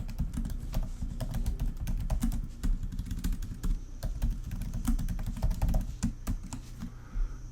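Rapid clicking of keys on a computer keyboard while entering Linux commands, steady irregular taps close up with no talking.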